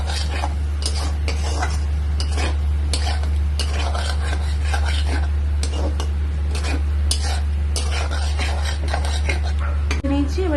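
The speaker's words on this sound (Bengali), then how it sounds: "আলুটাকে একটুখানি ভালো করে ভেজে নেওয়ার জন্য আমি যে কষছি" Potatoes are sautéed in a pan while being stirred, with a steady oil sizzle and repeated scraping and clinking of a utensil against the metal, close and continuous over a constant low hum.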